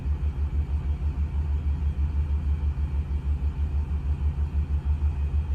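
The generator on a 2021 Jayco Redhawk 31F RV, low on gas, gives a loud, steady, pulsing low rumble that runs unbroken throughout.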